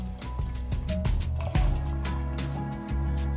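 Two cups of water go into a soup pot of sautéed vegetables, sugar and veggie stock, splashing and gurgling softly for a few seconds, close and fairly quiet.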